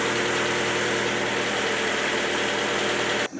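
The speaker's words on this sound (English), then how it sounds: "you're only running the engine to let the oil filter fill with oil" A Mazda Miata engine idles steadily with a low, even rumble and faint mechanical vibration, then cuts off abruptly at the very end.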